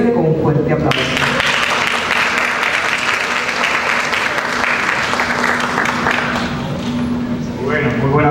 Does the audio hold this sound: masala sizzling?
no